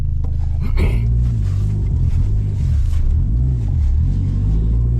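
Dodge SRT-4 out on a drive, engine rumbling loudly and steadily with audible rises and falls in pitch as it revs up and settles through gear changes.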